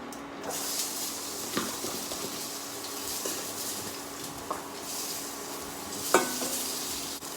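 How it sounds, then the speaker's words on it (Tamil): Onions sautéing in a pan for a village-style little millet biryani, a steady soft sizzle and hiss with occasional stirring scrapes and clicks, close and continuous without talk. "இப்போ வெங்காயம் ஆட் பண்ணிக்கலாம்."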